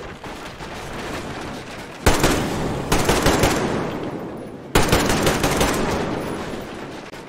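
Rifle fire in the game Metro Exodus, loud and close: repeated bursts of rapid shots with sharp attacks at several points, each burst trailing off, with no talking.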